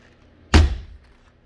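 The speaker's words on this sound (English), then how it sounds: "friction hinge door" A single solid thunk of a friction hinge compartment door on a Keystone Montana 377FL fifth wheel trailer swinging shut, close and sharp, with a short dull decay and quiet before and after.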